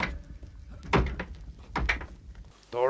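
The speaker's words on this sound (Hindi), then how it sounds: "तोड़ो इस दरवाजे को, तोड़ो जल्दी इस दरवाजे को।" A wooden door is being broken down: two heavy thudding blows against it, loud and close, with shouting voices around them and a voice starting at the end.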